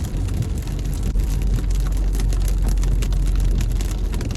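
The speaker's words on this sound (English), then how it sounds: "It's supposed to rain like this all day, all night into tomorrow morning." Steady rain falls outside on a dreary Easter day, a dense, continuous patter and hiss with a deep rumbling undertone, close and fairly loud, with no voices.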